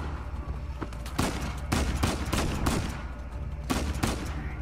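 Video game gunfire from Uncharted 4 cracks out in a rapid, overlapping fusillade of shots and bursts, loud and close, with brief gaps between volleys.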